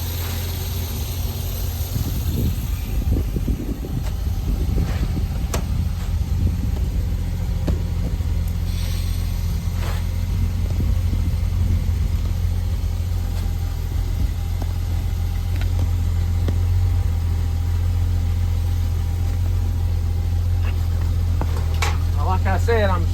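An old car engine with a Carter one-barrel carburetor idles with a low, steady rumble throughout, with a faint clunk near the start as the car is shifted into gear.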